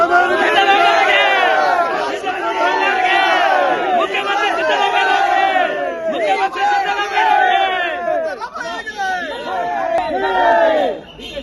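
A large crowd of supporters shouts political slogans in unison at Mangaluru airport, rhythmic repeated chants rising and falling, loud and close, with a lead voice calling and many answering.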